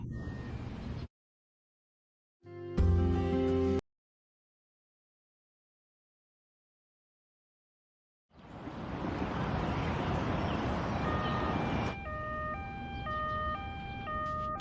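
Ambulance siren heard in short bursts separated by silence, then a long stretch of noisy ambience where a two-tone siren begins alternating near the end, faint and distant.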